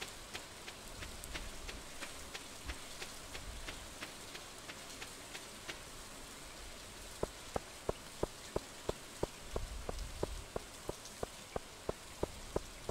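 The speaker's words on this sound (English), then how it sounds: "I don't have to water them since it is raining." Rain falls steadily in the farming game Stardew Valley, a soft, even patter with light drop ticks, then a run of regular, evenly spaced clicks over the rain in the last few seconds.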